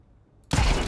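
A loud burst of rapid gunfire from Counter-Strike 2 erupts abruptly after near-silence and holds dense and close for the rest of the moment.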